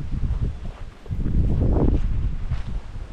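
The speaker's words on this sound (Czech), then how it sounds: "Fouká dneska." Wind gusting into the microphone during an outdoor family bike ride on flat ground in South Moravia, a loud, steady low rumble that swells and buffets for several seconds.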